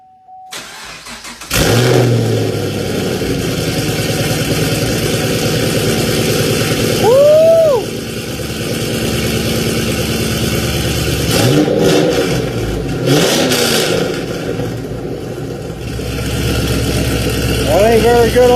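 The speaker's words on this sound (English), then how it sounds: "we're going to start it, and we're going to see what it sounds like co-started" A 2010 Chevrolet Camaro with an MPP exhaust cranks and fires up cold, then settles into a loud, steady, rumbling idle with a couple of brief revs, recorded close with no speech.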